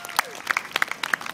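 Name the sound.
audience applause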